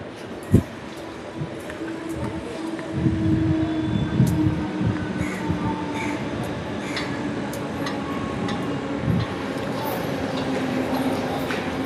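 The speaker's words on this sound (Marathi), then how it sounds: "ट्रेन पण आली तिकडे" Rumbling train noise at a busy station, with clatter and a steady mechanical drone under scattered crowd voices.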